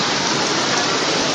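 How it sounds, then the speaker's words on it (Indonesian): Rain pours down outdoors in a dense, steady hiss, loud and close, with no pauses and no talk. "sekarang kita baru short time, hujannya turun lagi"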